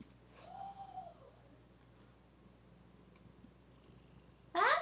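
A house cat purrs with a low, steady rumble close by, broken early by a short rising-and-falling cry and ending in a sudden loud burst of noise.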